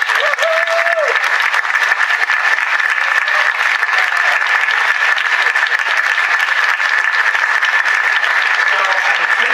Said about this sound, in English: please, help me give a big round of applause to this amazing group.